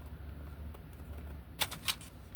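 Scissors snip through two folded layers of tracing paper in two crisp, close cuts against a quiet room background.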